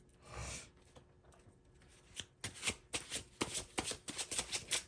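Gold foil tarot deck being shuffled, a soft riffle first and then a rapid run of crisp card flicks and slaps, close and fairly quiet, without speech.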